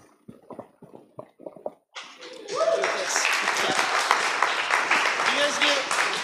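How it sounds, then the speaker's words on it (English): At a youth group evening gathering, a few sharp isolated sounds give way to a sudden, full burst of audience applause that carries on steadily, with voices calling out over it. "A round of applause."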